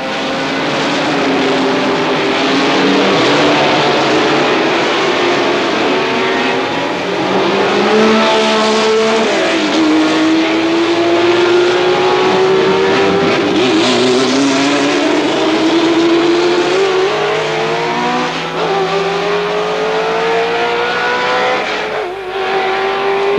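A pack of 56 race cars, including Porsche 917s, roars past one after another over a crest, engines whining up and down in pitch, loud and continuous for the whole stretch.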